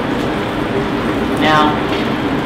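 Fish frying skin-down in a hot pan in a restaurant kitchen, a steady hissing sizzle throughout with brief clatter in the middle.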